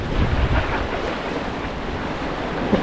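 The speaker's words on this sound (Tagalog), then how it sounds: "Grabe yung alon dito, pumuputok." Strong surf crashing on an ocean fishing spot, a steady loud wash of waves with heavy wind noise buffeting the microphone throughout, no talking.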